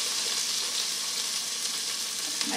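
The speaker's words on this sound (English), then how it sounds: "I am going to put that in the bottom of my pan and add my onions to brown" Onions browning in olive oil in a hot pan give off a steady, close, even sizzle with crackling spatter throughout, and no one talks.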